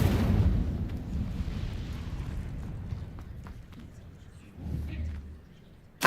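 Incendio fire spell cast in the Hogwarts Legacy video game, a deep fiery whoosh and rumbling burst that fades out, followed by a smaller burst and a sharp hit at the end.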